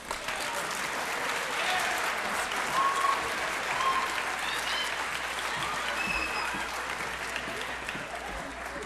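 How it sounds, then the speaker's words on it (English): Sustained applause from the audience at a 2008 high school yearbook ceremony, steady clapping filling a hall for nearly nine seconds with a few faint voices and cheers mixed in. "Hand of applause, please, for all of those."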